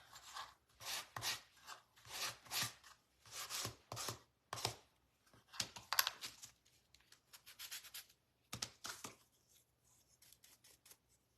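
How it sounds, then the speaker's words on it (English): Sandpaper rubbed over a woven rattan pumpkin decoration, a steady rhythm of short scratchy strokes, close and fairly quiet, alone, with no talking. "And let me sand it."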